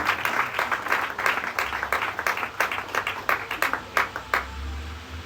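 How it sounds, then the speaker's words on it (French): An audience at a school certificate ceremony in a theatre claps steadily, a dense patter of many hands with sharper individual claps standing out, fading near the end. "Toujours sous les applaudissements, s'il vous plaît."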